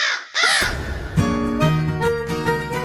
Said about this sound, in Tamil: என்னடா காக்கா வாய்ஸ் வருது?